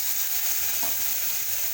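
Vegetables frying in mustard-seed-tempered oil give off a steady, soft sizzling hiss that holds even and unbroken throughout.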